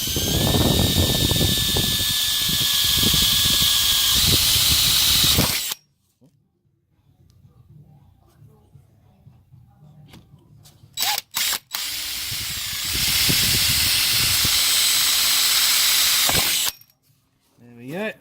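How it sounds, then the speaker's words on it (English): A power drill bores holes for pop rivets while a Jeep snorkel is being installed, whining loudly in two sustained bursts separated by a quiet pause with light handling noises. "now we've got the holes drilled"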